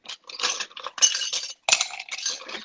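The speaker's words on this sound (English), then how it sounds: "Grab some ice cubes. I got 4." Four ice cubes dropped by hand into a glass while mixing a drink, producing a quick run of close, bright clinks and clatters with a short pause before the final few.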